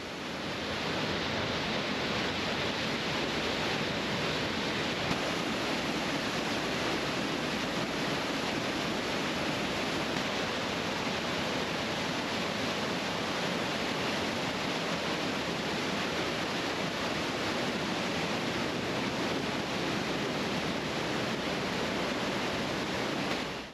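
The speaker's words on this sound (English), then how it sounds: "that water is just gushing through that little canyon area there" Water rushes through a narrow rocky canyon in Yellowstone National Park as a dense, continuous roar that stays steady and loud throughout, with no voices.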